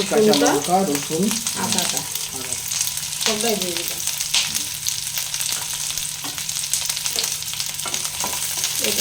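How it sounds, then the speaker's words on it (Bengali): Masala with onion and green chili frying in a little oil for masala paneer, a steady crackling sizzle with stirring scrapes. A voice speaks briefly near the start, then the frying continues alone. "আমি সেইটাতেই মশলাটা ভেজে নিব"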